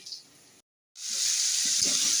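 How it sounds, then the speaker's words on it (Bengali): Pumpkin and potato pieces fry in a pan at home with a steady, bright hiss of sizzling oil, briefly cut off and then returning louder and constant, with faint clinks in the background. "শুরু হয়ে গেছে রান্না সকালে কুমড়ো আলু ভাজা আর রুটি করছি"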